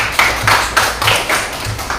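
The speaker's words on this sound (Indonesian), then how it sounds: "kita berikan tepuk tangan untuk kelas kelompok 3" A classroom audience gives group 3 a round of applause, with close, loud, fairly rhythmic clapping in an irregular patter and no voices over it.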